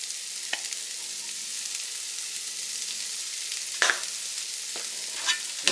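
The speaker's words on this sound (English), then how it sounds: "And get that all stirred up in there." Ramen with black pepper and thyme sizzles softly in a pan under a steady frying hiss, with a few scraping stirs standing out near the end.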